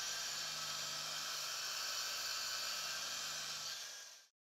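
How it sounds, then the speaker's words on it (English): An angle grinder fitted with a softer grinding disc evens out a stainless steel weld on round tubing, giving a steady, loud, continuous high whine that holds for about four seconds and then stops abruptly. "Even out all transitions precisely with the softer disc."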